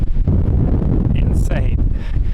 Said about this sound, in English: The wind is just like insane.